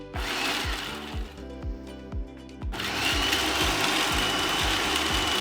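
A food processor pulses very dry garden chili peppers and onions, its motor firing in a rapid string of short bursts that settle into a steady, loud whir as the pieces break down.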